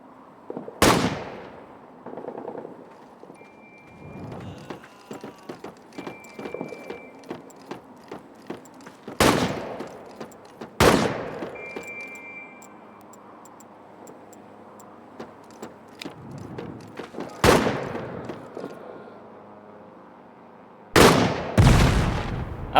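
Gunfire and a grenade blast in the video game All Quiet in the Trenches: several loud, sharp explosive bursts spaced a few seconds apart, with a pair at the end, over a low rumbling game background. No one speaks.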